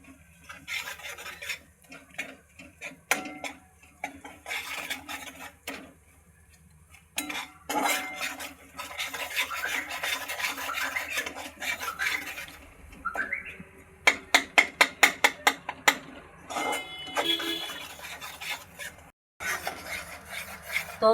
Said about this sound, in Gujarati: તો સિંગદાણા એકદમ સરસ શેકાઈ ગયા છે.